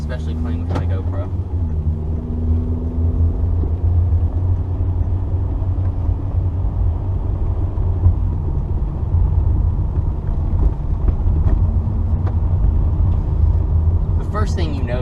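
A 1999 Volkswagen Beetle 2.0 GLS with an automatic gearbox drives along with a steady low engine drone and road rumble, a continuous close-up hum from inside the car with brief clicks and shifts in tone.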